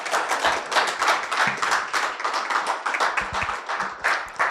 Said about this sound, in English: Ladies and gentlemen, I believe that the applause can be louder than that.